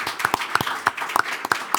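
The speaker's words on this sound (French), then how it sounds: "Applaudissements pour Tanguy Dupont." Audience at a real estate event in Orléans applauds a guest with sparse, evenly spaced hand claps, each sharp and distinct, repeating at a steady rhythm for a couple of seconds.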